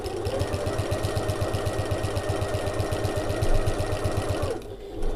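A sewing machine stitches an evening bag in a close, rapid, even run of needle strokes for about four and a half seconds, then stops briefly for a pivot before starting again.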